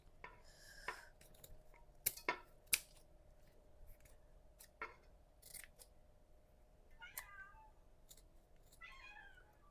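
A cat meows a few times, fairly close, between sharp clicking snips and light kitchen clatter.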